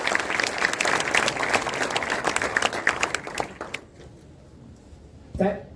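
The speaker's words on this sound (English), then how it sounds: "A huge round of applause for our panel of toppers." Loud, dense applause from an audience at a medical college event honoring a panel of NEET PG toppers, tapering off and dying out near the end before a short sound.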